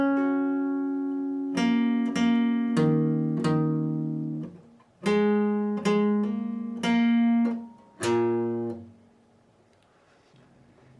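Electric guitar plays the fourth part of the second verse of a song slowly, a sequence of ringing chords and plucked notes with sustained tones, a brief pause midway, clearly and alone with no talking.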